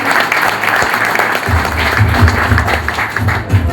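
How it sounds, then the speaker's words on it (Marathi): Audience applause at a public handover ceremony where a police DCP returns stolen goods to complainants, loud dense clapping close by that builds midway and continues steadily. "जोरदार टाळ्या झाल्या पाहिजे।"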